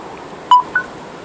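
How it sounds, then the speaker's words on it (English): Two short electronic beeps from an iBOLT xProDock charging dock signalling it is charging, close and clear, the second slightly higher, over faint background hiss. "If you hear the beep, it's getting a charge."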